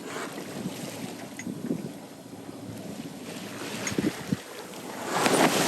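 A sailing yacht moves through water under katabatic winds, with continuous rushing wind buffeting the microphone, water wash against the hull and a few louder gusts toward the end.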